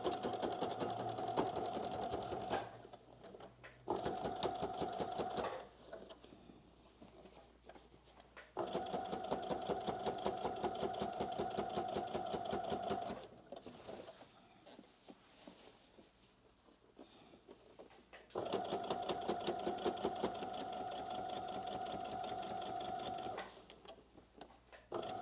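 A sewing machine stitches muslin in long runs of rapid, even mechanical clatter with a humming motor tone, stopping and restarting several times, with quieter handling noise between runs.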